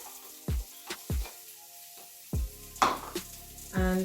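Onions hit hot oil in a pan for a vegan Jamaican patty filling, giving several separate bursts of sizzling, each with a soft thump, spaced a second or so apart, then a longer sizzle at the end. The sound is close and there is no talking.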